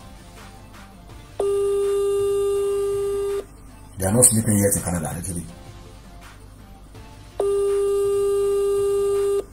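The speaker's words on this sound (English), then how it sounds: "Actually, the phone is ringing." A phone ringing tone on an outgoing call, two long steady electronic rings separated by a pause, with a person talking between them.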